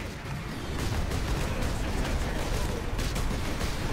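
Loud continuous incoming gunfire and rumbling blasts in the video game Space Marine, a dense unbroken barrage filling the whole stretch.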